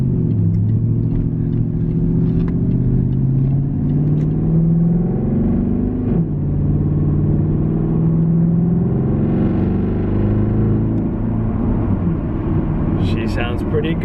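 Engine of a 2009 BMW 328i runs at idle with a steady low rumble, close and continuous, with slight shifts in tone as it runs.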